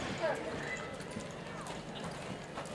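A horse's hooves during a dressage shoulder-in demonstration, soft rhythmic footfalls on an arena surface, faint and somewhat distant against background noise.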